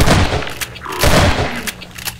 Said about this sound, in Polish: cztery strzały ze strzelby